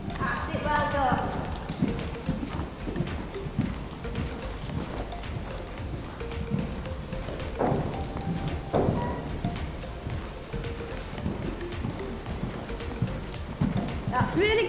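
Racehorse hooves clip-clop in a steady, rhythmic run while the horse is ridden, close and fairly loud, with voices talking over the hoofbeats.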